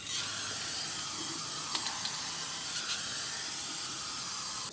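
A spray paint can sprays black paint in one continuous, close, loud hiss with a couple of faint taps, no talking.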